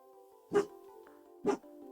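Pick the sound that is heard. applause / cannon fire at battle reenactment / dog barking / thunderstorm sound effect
dog barking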